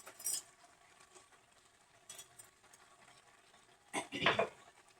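A spoon stirs chicken curry in a pot, giving faint scrapes and light metallic clinks against the pan. A louder clatter comes near the end, and no one speaks.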